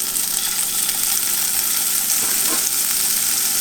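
Ham sizzles in melted butter in a hot skillet, a steady, close, crackling fry that holds evenly throughout with no voices.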